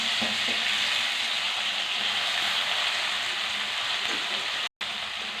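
Eggplant pieces fry in a pan with onion and green chili for an eggplant tomato curry, giving a loud, steady, close sizzle that runs unbroken through the whole stretch, with faint stirring and no talk.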